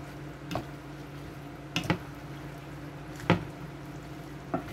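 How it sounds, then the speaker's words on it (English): Collard greens being mixed with ingredients in a wet pot, soft squishy scoops and moist rustles at irregular intervals over a low steady background hum. "I'm going to get every leaf nice and wet. Mix in the ingredients."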